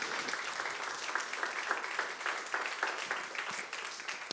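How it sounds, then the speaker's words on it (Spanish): Steady applause from a congregation at a church service, dense clapping throughout at moderate loudness, sustained for several seconds without letting up. "Démosle un aplauso bien fuerte a Dios."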